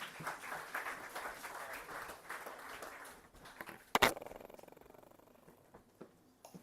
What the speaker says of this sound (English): Please invite sir with a huge round of applause.